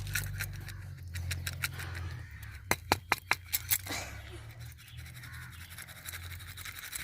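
A spoon stirs chana dal fry with salt in a pan, making a run of quick scraping strokes in the middle and a soft, steady scraping before and after, all close by.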